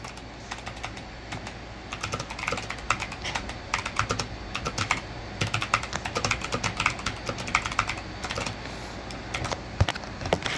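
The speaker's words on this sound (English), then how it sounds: "I'm going to type a prompt now" Rapid, irregular typing on a computer keyboard, with clustered key clacks continuing steadily throughout at close range, with no talking.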